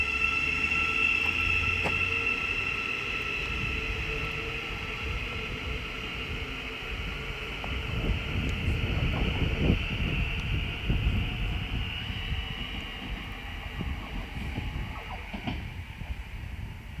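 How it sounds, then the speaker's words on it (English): Thameslink train pulling out of Hitchin station on the East Coast Main Line, bound for Cambridge, heard as a steady, continuous rumble with airy wind-like noise that swells slightly midway and stays moderately loud throughout. "1450 Thameslink service from London King's Cross to Cambridge is now departing."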